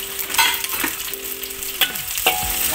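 Garlic, shallots and lemongrass sizzle steadily in hot oil in a pan, with a few stirring scrapes and clinks of a utensil breaking through the continuous frying crackle.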